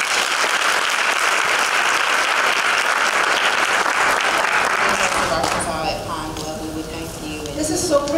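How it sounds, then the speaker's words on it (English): An audience gives loud, sustained applause at a Women's History Month event, a dense, even wash of clapping that eases off near the end. "Let's give her another round of applause."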